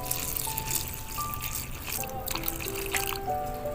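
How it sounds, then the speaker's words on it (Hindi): Buttermilk trickles and pours in small amounts into flour for a Lahori pura batter, a soft liquid dribble close by with faint clinks, fairly quiet. "अब मैं इसमें छाछ जो है तैयार की है वो ऐड करूँगी।"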